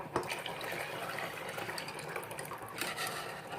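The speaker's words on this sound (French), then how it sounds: "je vais ajouter un demi-litre de lait bouilli avec la crème" Boiled milk with its cream poured into a container for homemade yogurt, a soft continuous liquid gush and splash at low level, with no talking.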